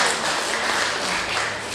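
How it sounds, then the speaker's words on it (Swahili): An audience applauds at a gospel album launch, a short burst of dense clapping close by. "Pigeni makofi."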